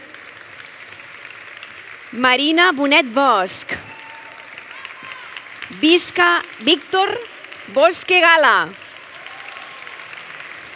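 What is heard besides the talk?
applause at graduation ceremony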